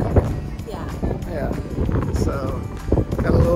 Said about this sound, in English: Hopefully you can still hear me through the wind